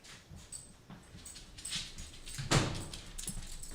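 Buddy the dog whimpers in soft, uneven bursts with small yips and rustling, swelling to a louder whine near the end.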